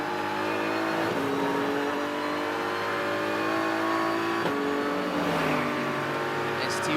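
A BMW GT race car at NOLA circuit during a GT World Challenge America race, its engine roaring loud and steady at high revs, with pitch dropping and climbing through gear shifts around a race commentator's voice.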